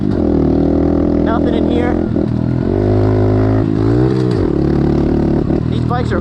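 Pit bike engine revving hard on a dirt track, loud and continuous with pitch rising and falling through the gears, while a rider talks over it.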